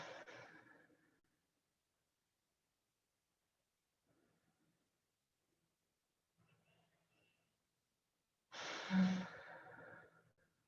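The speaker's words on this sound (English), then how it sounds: "Let's take 4 big exhales here." A yoga practitioner in a hatha session breathing out in big audible exhales, two long breathy releases separated by near silence, close and soft, with no talk.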